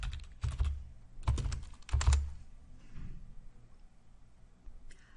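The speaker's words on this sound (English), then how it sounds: "In the quick find, I'm going to type the name of the model that I'm looking for." Typing a hearing aid model name into a software search box on a computer keyboard: a few short bursts of key clicks with pauses between, fairly quiet and close.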